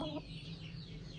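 A hen clucking right after laying an egg, a short near cackle at the start fading into a low steady background of farmyard noise.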